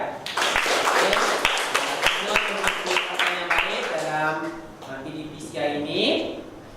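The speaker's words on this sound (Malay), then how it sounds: "tanya kepada semua bagi tepukan" A class of schoolchildren at SK Kampung Berangan, Pasir Puteh claps at the end of a lesson: sharp, scattered individual claps over a few seconds, mixed with children's voices and chatter that carry on as the clapping fades.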